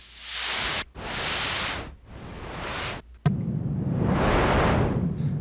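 Noise oscillator of a Korg Prologue synthesizer swept through filters, hissing static bursts that swell and fade in separate phrases, then a longer brighter wash with a stronger low end.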